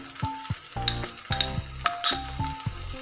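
Urad dal, chana dal, ginger and garlic frying in hot oil, giving a close, steady sizzle broken by repeated metallic clinks of a spoon stirring in the pan.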